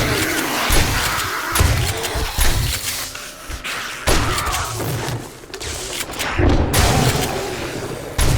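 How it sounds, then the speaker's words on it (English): Shotgun blasts in the survival game 7 Days To Die during a blood moon night, heavy booming shots repeating every second or so amid dense, chaotic combat noise. "Shotgun time."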